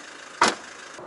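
A Renault Samsung QM3 compact SUV's rear tailgate swings shut with one sharp, close thud, followed by a quiet hum and a faint click near the end.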